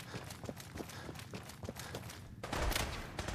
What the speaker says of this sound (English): I think they're shooting